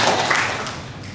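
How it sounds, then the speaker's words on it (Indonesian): A congregation at a Catholic Mass and adoration service applauds in a brief, dense wash of many hands clapping at once. The sound is moderately loud and fades slightly toward the end. "Tepuk tangan untuk diri kita sendiri"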